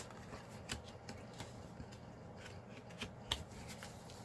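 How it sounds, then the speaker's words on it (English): Handmade greeting card of patterned designer paper being folded in half by hand, giving soft papery rustles and a few light, crisp creasing taps close by in a quiet room. "So I'm just going to fold this in half."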